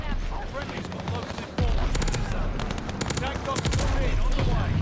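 Rapid automatic fire from the Armaguerra 43 submachine gun in Call of Duty: Vanguard multiplayer, loud, dense bursts with brief pauses, with game ambience underneath.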